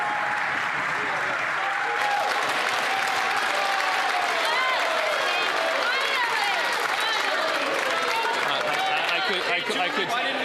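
Loud, sustained applause fills a parliamentary chamber during Question Period, with steady desk-thumping and clapping from many members, mixed with crowd chatter and raised voices throughout.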